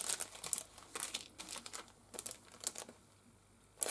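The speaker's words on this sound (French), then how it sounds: "Regardez, avec un beau papier." Wrapping paper being handled around a small gift parcel, giving a run of close, dry crinkles and rustles in uneven bursts with brief pauses, ending on a sharp crackle.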